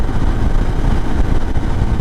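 An IBEX 450 motorcycle fitted with a 15-tooth sprocket drones steadily at highway speed near 75 mph, a constant low engine roar mixed with wind rush and no speech.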